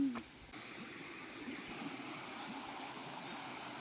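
Water rushing steadily at Nagnath waterfall among the hills, a constant broad roar heard from nearby with a brief knock at the very start.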